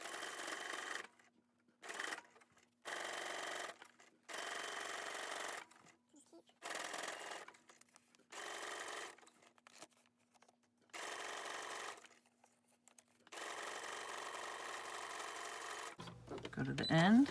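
A sewing machine runs a zigzag stitch across magazine paper in a series of about ten short, evenly spaced bursts of rapid whirring, close and clear, with brief silent pauses between them.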